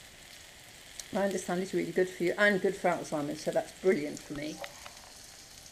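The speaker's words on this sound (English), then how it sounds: "I'm now frying up my onion in coconut oil." An onion sizzles and crackles quietly in coconut oil in a frying pan while a person talks over it.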